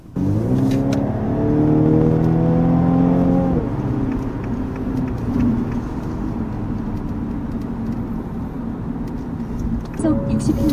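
A Mini Clubman JCW hatchback, driven in mid mode, accelerates hard with a loud engine note climbing in pitch, then a gear change drops it to a steadier, quieter drone with a brief rise near the end.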